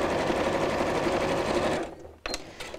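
A sewing machine stitches fabric straps with a dense, fast whirring hum for nearly two seconds, then stops, followed by a couple of small clicks.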